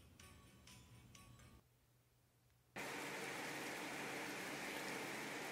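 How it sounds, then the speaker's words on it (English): Rain falls on a New Year's Day, a faint steady hiss that grows suddenly louder and denser partway through and holds without any talk. "It's raining."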